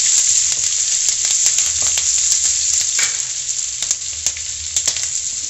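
Ginger and green chilies sizzle in hot oil for a tadka, a loud, steady hiss sprinkled with small crackles and pops throughout, with no talking.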